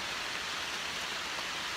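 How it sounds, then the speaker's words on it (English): Rain falling in a jungle rainforest, a steady dense hiss of drops on foliage, constant and moderately faint with no pauses. "Just as I suspected, rain."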